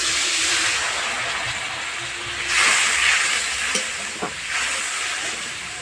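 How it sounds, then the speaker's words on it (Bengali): Cumin paste thinned with a little water goes into hot frying spices for a fish curry, giving a loud, close, steady hiss and sizzle that swells briefly mid-way, with a few light utensil clicks and no voices. "বাটা জিরেতে অল্প করে একটু জল মিশিয়ে দিয়েছি, দিয়ে দিচ্ছি।"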